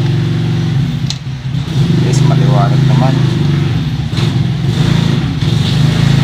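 A battery-operated motorcycle engine runs steadily and loudly after troubleshooting, a continuous low mechanical drone with slight revving, while someone talks over it.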